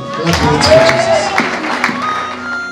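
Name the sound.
congregation clapping hands for the Lord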